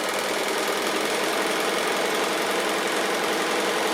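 A sewing machine chain piecing quilt squares and strips, running continuously at steady speed with a dense, fast mechanical whir and rapid needle chatter, close and constant, with no voices.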